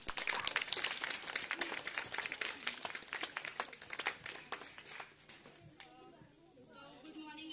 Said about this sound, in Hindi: तालियों से स्वागत करें मैम का